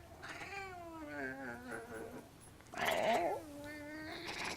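An F1 Savannah cat, a half-wild hybrid, gives a series of drawn-out, wavering meows and one louder yowl, close and clear, with no talking over them.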